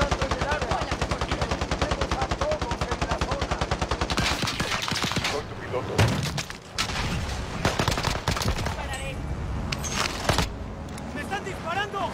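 Rapid automatic gunfire from the video game Warzone rattles loudly in a steady burst, then gives way to scattered shots and bursts while players talk over it.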